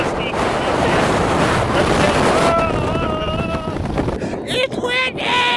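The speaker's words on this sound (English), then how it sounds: "It's windy!" Strong wind gusts buffet the microphone on a rugged mountain climb in Snowdonia National Park, Wales, a constant loud roar, with a voice briefly heard through it near the end.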